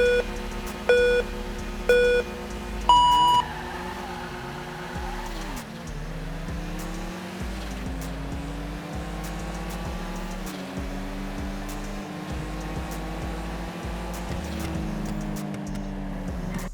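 Game race in GTA 5 between a Honda S2000 and a Toyota 86. Four countdown beeps open it, then engines roar and rise through repeated gear shifts, steady and loud for the rest of the run.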